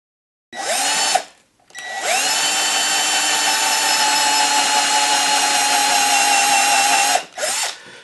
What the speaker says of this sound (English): all I'm going to do is just drill a hole right there.